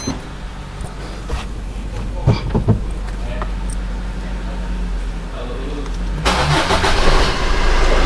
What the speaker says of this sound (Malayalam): നമ്മളുടെ എൻജിൻ സ്റ്റാർട്ട് ചെയ്തിട്ടുണ്ട്.